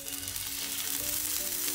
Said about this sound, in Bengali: প্যানটা গরম হওয়ার পর আমি একে একে মাছগুলো দিয়ে দিচ্ছি।